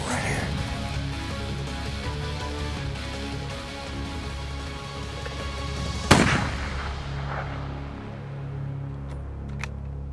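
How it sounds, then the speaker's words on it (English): A single loud rifle shot during a big-game hunt in New Mexico cracks out near the middle and then echoes off, following a stretch of wind and rustling outdoor background noise. "just shoot right below the nose, shoot straight into that chest area"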